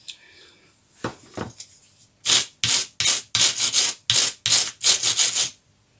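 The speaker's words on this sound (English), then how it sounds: "I think it's fine with a quick wire brush over it" A wire brush scrubs leftover rust from a metal part treated with Eastwood Rust Dissolver. A few light scrapes come first, then about eight loud, close, harsh brushing strokes in a steady back-and-forth rhythm, with no talking.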